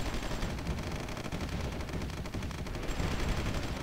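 Battle fire in the strategy game Supreme Ruler Ultimate rolls on as a dense, continuous crackle of overlapping gunshots, steady and fairly quiet, with no single shots standing out and no talk.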